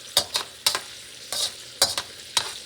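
Six or seven garlic cloves cook in a pan for a Thai vegetable stir fry, heard as a close, fairly loud run of about seven short stirring scrapes over a crackling sizzle, with no voices.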